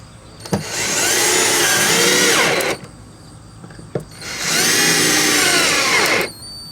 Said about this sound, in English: Once your holes are drilled, you can go ahead and start your screws.